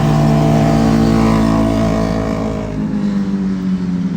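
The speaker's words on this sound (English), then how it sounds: "sort of a common thing to hear what you're hearing right now. We got the Dallas traffic." On a Dallas street, a car engine revs hard and roars close by, a loud sustained growl whose pitch slides down as it passes and fades into the steady drone of traffic.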